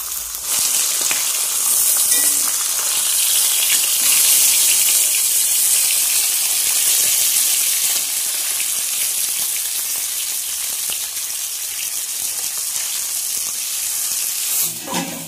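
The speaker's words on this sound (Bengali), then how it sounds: "মাছটা ভাজা হচ্ছে" Fish frying in a pan of hot oil in a home kitchen, a steady, dense sizzle and crackle that holds loud and close for the whole stretch with no talking.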